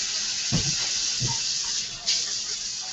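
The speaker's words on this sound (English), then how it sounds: "Wash my hands." A kitchen tap runs steadily as hands are washed during a batch-cooking session, a close continuous hiss of water with a couple of soft knocks and splashes.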